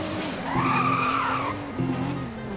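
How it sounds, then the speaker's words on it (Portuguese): A Nissan GT-R in stock, original condition accelerates and skids in Roblox Driving Empire, its engine rising in pitch over a sustained squealing slide, then dropping and climbing again as it shifts. "Acelera com esse carangão seu aí."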